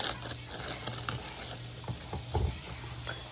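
Sausage browning in a frying pan gives a steady, close sizzle, with scraping and clinking from stirring now and then.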